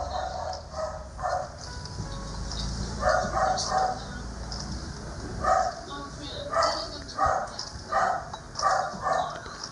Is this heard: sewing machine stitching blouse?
no